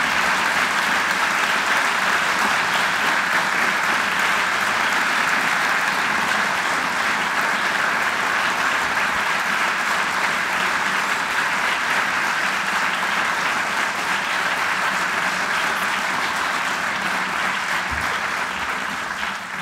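Sustained audience applause at a city awards ceremony in Igualada, a dense, steady wash of many hands clapping together, loud and continuous throughout with no talking over it.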